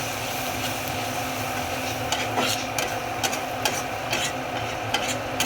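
Bitter gourd with coriander-cumin, turmeric and garam masala is stirred in a pan, giving a steady low sizzle broken by repeated scraping strokes of the spoon, close and moderately loud with no talk.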